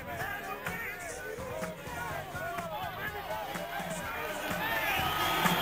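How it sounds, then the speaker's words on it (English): Boxing arena crowd at an HBO world championship fight between Herbie Hide and Riddick Bowe in 1995, a dense roar of cheering and chatter swelling steadily louder toward the end. "Now the crowd comes alive."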